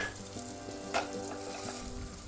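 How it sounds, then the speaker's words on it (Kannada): Coriander seeds sizzle in a pan over a low flame for a Vangi Bath spice mix, a steady close crackle with a brief louder stir midway. "ಎಲ್ಲದನ್ನು ಸಣ್ಣ ಉರಿಯಲ್ಲೇ ಫ್ರೈ ಮಾಡ್ಕೊಳ್ಳಿ"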